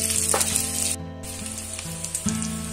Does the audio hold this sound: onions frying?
yes